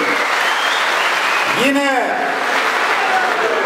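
A crowd applauds strongly at an AK Party candidate introduction rally in Tokat, steady loud clapping throughout, while a voice briefly speaks and a rising-falling tonal sweep cuts through in the middle.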